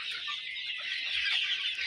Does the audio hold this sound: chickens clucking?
yes